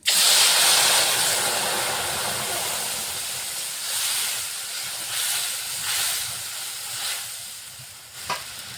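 Ginger, cumin, coriander and green chili paste goes into hot oil with a loud hissing burst. The sizzle then eases into a steady fry, with gentle stirring pulses and a faint clink near the end.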